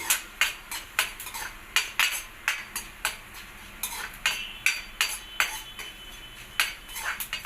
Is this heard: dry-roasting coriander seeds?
yes